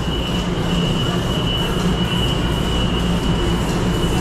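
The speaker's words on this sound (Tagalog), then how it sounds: "sa ibabaw na kami ng LRT" Light rail (LRT) train rumbling loudly past overhead above a parking area, a steady, dense roar of wheels on rails with a faint high squeal running throughout, no talk.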